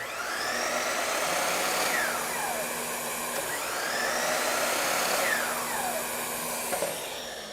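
A miter saw motor runs steadily with a loud, sustained whine, and its pitch sweeps down and up in several arcs as the blade spins and slows, with no one speaking.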